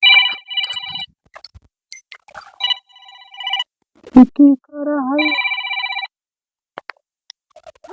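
A mobile phone rings in a Hindi comedy sketch, with bright, repeated bursts of electronic ringtone that start and stop in short bursts, interrupted by a brief spoken exclamation and a warbling tone before the ringing resumes.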